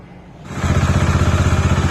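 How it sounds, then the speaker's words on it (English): Bajaj Dominar 400 motorcycle engine starting and then idling while warming up, a loud, close, rhythmic thumping single-cylinder pulse that settles into an even beat after a quick catch. "So before adding the 3M engine oil flush, I'm warming up the engine a bit."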